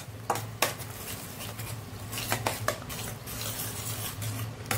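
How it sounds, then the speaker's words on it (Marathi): Ground masala paste stirred and fried with spices in a pan for potato rassa bhaji, giving repeated close spoon scrapes and clanks over a soft steady sizzle, with no voices. "आता हे वाटण यामध्ये मिक्स करून घेऊया मसाल्यांमध्ये। चांगलं परतून घ्यायचं आहे।"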